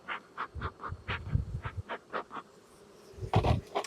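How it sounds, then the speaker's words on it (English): Honey bees buzz around an open hive colony, a series of short rising and falling hums close by, pausing briefly before a louder burst near the end. "there's a lot of bees in that colony"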